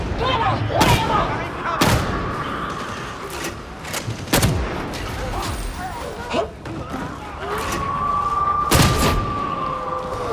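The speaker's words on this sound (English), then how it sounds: "Frag grenade!" Frag grenade explosions in Warhammer 40K Darktide, loud booming blasts at irregular intervals amid ongoing gunfire and combat noise, with voices shouting over the battle.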